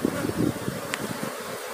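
Apis honey bees from a hive colony buzz close by in a dense, continuous drone with small rustling bursts, no voices present.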